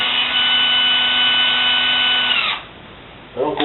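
A power drill drives screws into fresh holes, its motor whining steadily for about two and a half seconds before winding down, followed by a short second burst, loud and close.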